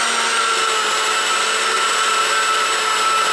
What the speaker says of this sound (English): And I'm going to grind these down so they form like a flour,